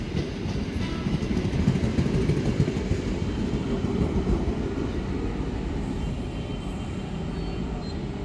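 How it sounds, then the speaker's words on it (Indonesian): Loud, steady rumble of a passenger train rolling through a busy Jakarta station at night, with continuous low roar and rail noise and no voices, holding close and even throughout. "Kali ini kereta api Gumarang membawa 9"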